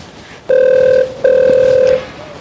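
Two loud electronic phone rings, each a sustained tone about half a second long, separated by a short pause, close and clear with no talking.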